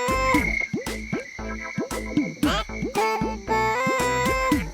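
A frog croaks very close by in repeated, rapid rising calls, loud and rhythmic, with several overlapping croaks throughout and no talking.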